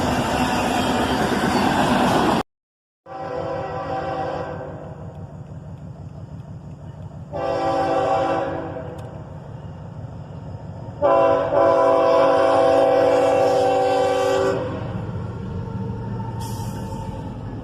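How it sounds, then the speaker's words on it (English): A CSX freight train led by ES44ACH and AC44CW locomotives passes close by, with a loud steady rumble under three long blasts of the air horn, the last one fullest, and no talk. "An ES44ACH and a YN2 AC44CW lead this train."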